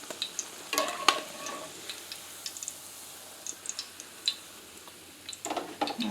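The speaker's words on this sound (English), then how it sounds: "I'm frying up the rest of my salmon patties" Salmon patties fry in a pan with a faint steady sizzle, broken by scattered light clicks and taps of a utensil against the pan.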